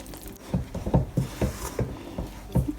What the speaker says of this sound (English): I'm going to mix that. Let's try and mix it to form a dough.